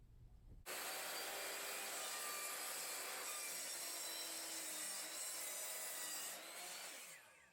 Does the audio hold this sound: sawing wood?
yes